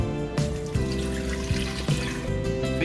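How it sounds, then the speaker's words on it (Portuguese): Water pours steadily into a pot of beef feet (mocotó) and beans that has just been salted, making a continuous close splashing trickle with a few small surges. "E vamos cobrir ele de água."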